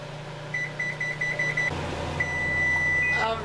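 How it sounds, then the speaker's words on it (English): Kitchen timer being set for 30 minutes before a tray of turkey enchiladas bakes: a run of short, evenly spaced electronic beeps, followed by a longer steady tone over a low appliance hum. "And I'm going to set the timer for 30 minutes."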